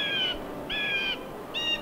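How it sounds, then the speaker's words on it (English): In the Wizard101 video game, a bird gives three short, clear calls at an even rhythm, each about a third of a second long, set against a soft ambient background. "You guys can listen to the beautifully annoying birds in the background."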